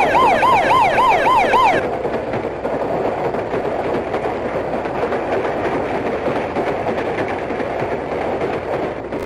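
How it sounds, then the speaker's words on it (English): Warning alarm at a railway level crossing, a warbling two-tone electronic wail alternating rapidly for the first two seconds, then giving way to a steady broadband rumble of a passing train or traffic. "Level crossing warning system to warn road users of approaching train."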